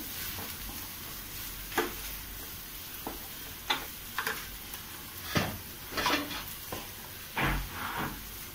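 Malvani masala sautéing in a pan, a quiet continuous sizzle broken by several distinct scrapes and knocks of a spoon against the pan.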